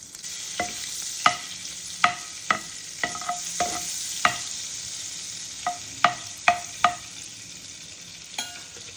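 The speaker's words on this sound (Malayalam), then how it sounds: "അതിലേക്ക് ഏകദേശം ഈ വലുപ്പത്തിലുള്ള ബട്ടർ ഇട്ട് കൊടുക്കുക" Butter melting and sizzling in hot oil in a pan for butter garlic broccoli, a soft continuous sizzle broken by a dozen sharp spoon taps and scrapes against the pan.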